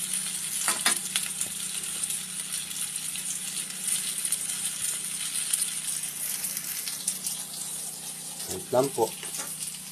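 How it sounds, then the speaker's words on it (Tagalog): Ingredients sautéing in a pan with a continuous low sizzle, occasional clinks of a utensil against the pan early on, and a short burst of rattling stirring near the end, with a brief spoken remark. "Yan po, ginigisa ko na po."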